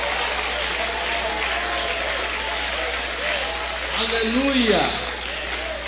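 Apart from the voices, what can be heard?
congregation clapping in church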